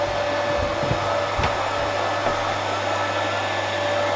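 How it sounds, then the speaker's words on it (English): A Hoover vacuum cleaner runs steadily nearby with a loud, constant whirring drone and a few brief knocks as it moves, no voices heard. "As you can hear, Craig has already started to Hoover"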